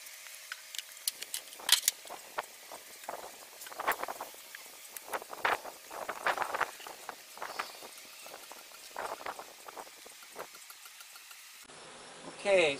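Honey bees crawling and buzzing on a hive frame during queen rearing, a faint scattered hum with brief louder buzzes and light clicks, close by.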